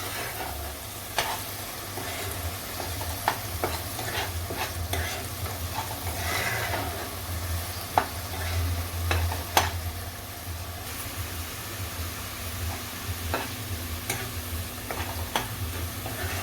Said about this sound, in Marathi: तर एखादा मिनिट आपण परतून घेऊया वाटण हे तेलावरती